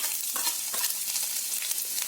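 Finely chopped garlic frying in hot oil in a pan, a steady dense sizzle with light stirring clicks and scrapes, close and continuous throughout.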